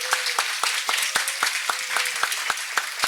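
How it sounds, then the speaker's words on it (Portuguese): Audience applause at an academic conference, steady dense clapping from a crowd, moderately distant and unbroken, with no talk over it. "Aplausos."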